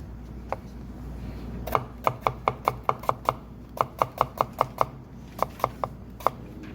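A knife chops rapidly on a cutting board while food is prepared for a Japanese cooking skills exam, likely the octopus dish. The crisp, close taps come in a steady rhythm of about fifteen strokes with no talking.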